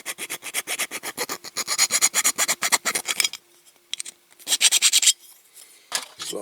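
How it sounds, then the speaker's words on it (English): Close, fast back-and-forth rasping of a file on the rivet of a Corgi Toys Ford Consul Cortina Super Estate die-cast model, long steady runs of strokes broken by brief pauses and a short later burst. "So I'll file that around and then I'll drill it out."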